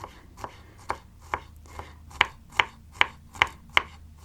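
Garlic being chopped with a knife on a board for a seafood salad dressing: about ten crisp, evenly spaced chops, growing louder and sharper toward the end, with nothing else heard.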